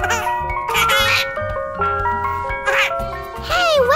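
A chiming ice cream truck jingle plays loudly in repeating melodic phrases, with a child's giggles and laughter breaking in over the tune.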